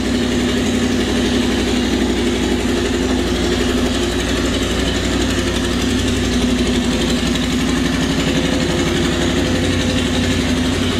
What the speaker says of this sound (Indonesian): Jadi ini cold startnya guys. Ini masih dingin.